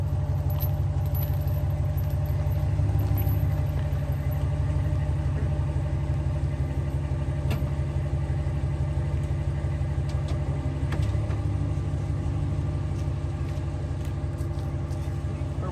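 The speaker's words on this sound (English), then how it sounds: "we can go ahead and back under the trailer back here, get it hooked up" A truck idles and rumbles steadily while backing up beneath a travel trailer to hook up a weight distribution hitch with sway control, with rattling and clinking hitch hardware and occasional knocks throughout.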